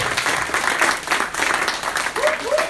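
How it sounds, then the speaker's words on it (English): A roast audience gives the club photographer a brief round of applause, a dense patter of clapping with voices mixed in. "Big round of applause for Antonio."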